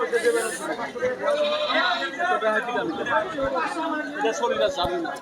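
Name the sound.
goats bleating at livestock market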